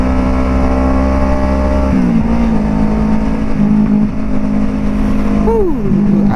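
Kawasaki Ninja RR 150 motorcycle engine droning steadily on a road, with a throttle change near the start and a rising, falling rev toward the end, loud and close.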